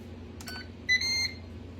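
A Ninja pressure cooker beeps as its start button is pushed, ready to cook fresh green beans and new potatoes: a short electronic chirp, then a longer, higher, steady beep, clear against a quiet kitchen hum.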